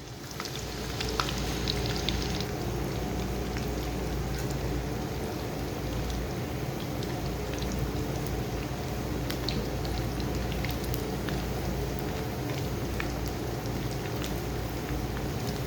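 Pakoras for kadhi pakora frying in hot oil, a dense, steady crackling sizzle that stays loud and unbroken throughout with no voices.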